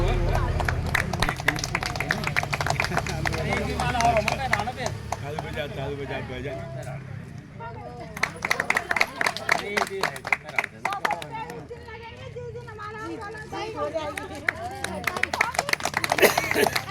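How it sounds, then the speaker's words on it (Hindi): Crowd clapping at an outdoor protest sit-in on its second day, steady scattered applause running throughout with chatter and voices mixed in, fairly loud and close. "तालियों से स्वागत होना चाहिए, जोरदार तालियों से।"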